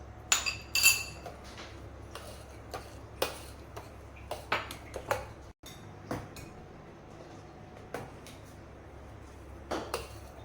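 A spoon stirs custard powder into milk in a pot, giving a series of sharp metallic clinks and taps at irregular intervals, clear and close, with a quiet room behind and no speech.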